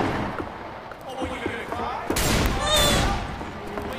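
Gunfire from Left 4 Dead 2 during a Passing campaign match, a series of sharp shots and thuds through a busy mix of game noise, with a louder burst near the end.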